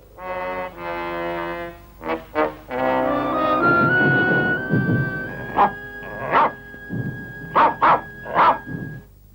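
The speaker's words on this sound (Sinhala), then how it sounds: "මොකද වයිට බුරන්නේ?" A cartoon dog in an animated Gulliver adventure barks in a series of sharp, loud bursts, several quick barks in clusters, over sustained tonal background sounds.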